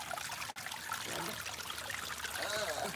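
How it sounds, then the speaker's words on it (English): A small homemade backyard waterfall trickles steadily, a soft continuous splashing and babbling of water heard close but faint, with a brief dropout partway through and a voice speaking quietly underneath. "I built the waterfall myself."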